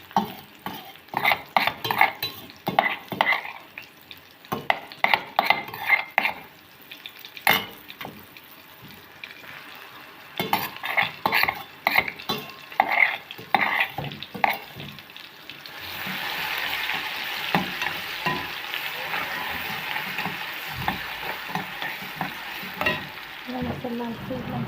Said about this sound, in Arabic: نحط التومه.